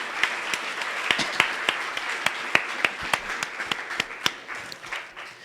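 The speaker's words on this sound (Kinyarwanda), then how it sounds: "Amashyi menshi ku mwami wacu Yesu Kristo." A church congregation applauds in praise of Jesus Christ, a steady wash of clapping with sharp individual claps standing out, moderately close and continuing throughout.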